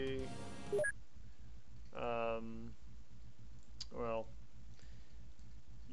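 Mouse clicks in an Open XCOM game menu: a few sharp, isolated clicks spaced over several seconds, each soft and close, sitting under and between a person's talking.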